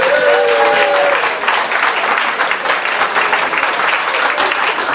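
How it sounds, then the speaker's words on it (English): Loud, continuous applause from a crowd at a dance event, with a few tonal whistles early on, holding strong for the full five seconds. "give him a big round of applause"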